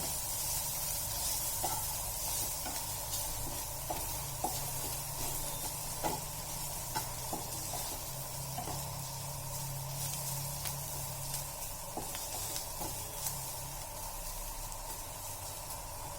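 Onions frying in a pan for a shev bhaji curry, a steady close sizzle with faint stirring clicks and scrapes scattered throughout, no voices.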